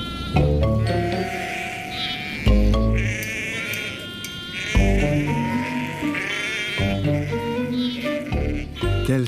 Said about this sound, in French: Le troupeau de moutons ne manque pas dans le paysage du mont Chashan.